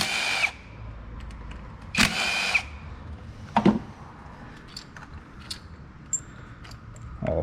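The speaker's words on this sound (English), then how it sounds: "Come in here and remove the bolts for the coil packs." Power ratchet or drill-driven 10 mm socket removing coil pack bolts on a GMC 2.4 engine: three short loud whirring bursts, then scattered lighter metallic clicks and taps, with no talking.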